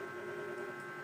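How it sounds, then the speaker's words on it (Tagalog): A running electric fan gives a steady low motor hum with a faint whirring drone, constant and close, with no voices. "Ito nga pala ang aming electric fan. Malakas rin naman ito guys."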